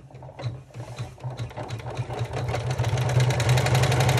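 Up close, a sewing machine stitches through a clutch bag with a rapid, rhythmic mechanical chatter. It speeds up and grows a little louder toward the end, and no one talks over it.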